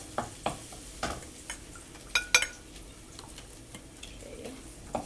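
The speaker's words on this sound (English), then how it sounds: "Light brown your garlic." Garlic frying in a very hot wok, with a soft steady sizzle under sporadic sharp scrapes and taps of a utensil against the metal, close and fairly quiet.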